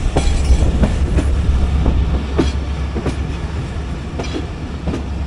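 Karachi Express passenger train running past on the rails between Khanewal and Lahore, with a steady loud rumble, rhythmic clickety-clack of wheels over rail joints and a constant low drone throughout.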